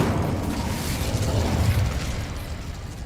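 The Incendio fire spell erupts in Hogwarts Legacy as a continuous, moderately loud roaring burst, a low, crackling rush of flame that swells in the middle and slowly tapers.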